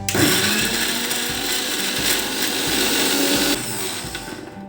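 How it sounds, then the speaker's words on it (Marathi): A kitchen mixer grinder whirs loudly and continuously as it grinds small pieces of ginger, with a slight change in pitch and load near the end; no voices. "आणि मिक्सरला लावून घ्यायचं आहे"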